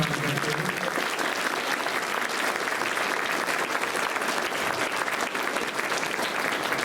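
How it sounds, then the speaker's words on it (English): Steady, dense applause from a large audience at a school spring band concert, honoring the music educators, loud and continuous throughout with no pauses. "how about a round of applause for all of our music educators, Mr. Cronin,"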